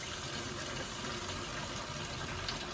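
Warm water runs steadily into a sink while tie-dye is being mixed, a quiet and continuous hiss of flowing water with no speech over it.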